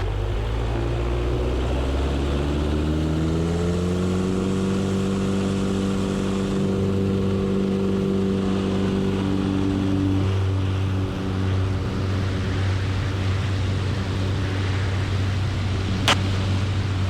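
A small propeller airplane engine roars steadily through takeoff and climb-out near 2880 RPM, its drone rising in pitch as power builds and then holding a loud, constant tone from inside the cabin, with no talk.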